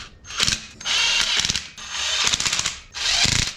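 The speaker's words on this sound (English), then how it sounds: "Now let's just lightly snug this down with our giant impact." A large impact wrench snugs down the bowl gasket screws in three loud, rattling bursts, each about a second long and separated by brief pauses.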